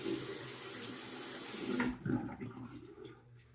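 Tap water runs into a sink to wet a Weck Apollo OC safety razor, a steady close rush that breaks into splashes and trickles as the razor passes under the flow, then fades.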